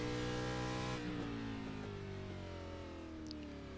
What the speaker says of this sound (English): as Landon Lacey in the number 54 Ryco Ford Mustang getting all wound up